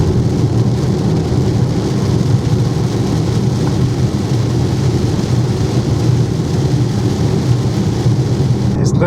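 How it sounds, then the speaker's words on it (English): Rain drums steadily on a BYD Atto 3 electric car while driving, a loud continuous patter and rumble heard from inside the cabin, with no clear wiper strokes standing out. "First time I've really had to use wipers in my car. So, a bit of rain before we hitting Lindis Pass."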